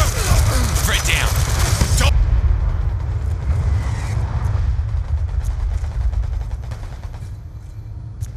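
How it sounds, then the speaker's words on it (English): Hellstorm missile strike in a video game, a loud dense rumbling blast over the first two seconds that fades into a low sustained roar, with voices talking underneath. "Friendly Hellstorm missile inbound. Straight down."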